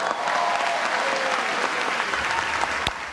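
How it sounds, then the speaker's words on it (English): Ballroom crowd at the White House Correspondents' Dinner applauding after a comedian's set, a dense continuous wash of many hands clapping, loud and even throughout. "All right, my team here is clapping."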